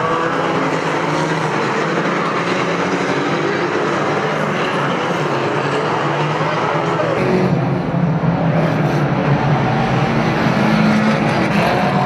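Two-litre banger racing cars crash and jostle on an oval track, engines roaring in a dense, loud mass of noise with heavy impacts as cars pile into the top bend.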